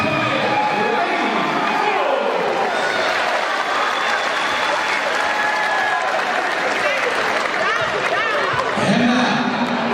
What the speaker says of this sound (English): Would you give a round of applause to the Calhoun Lady Wolves?